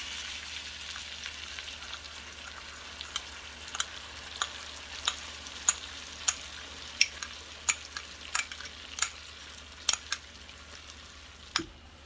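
Chicken breast frying in a pan with soy sauce and honey, a low steady sizzle broken by about a dozen sharp clicks of a utensil scraping and stirring the pan, with no talking.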